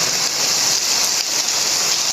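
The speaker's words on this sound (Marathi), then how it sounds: "जबरदस्त पाऊस आला खूप दिवसांनी" Heavy rain pours down steadily in a Konkan village after a long dry spell, a dense continuous hiss of drops on surfaces, loud and close with no voices.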